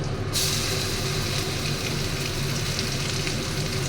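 A paste of ground mustard, poppy seed and green chili, added to a pan with prawns and black cumin, sizzling loudly and steadily in hot oil, a constant dense crackle close up with no talk.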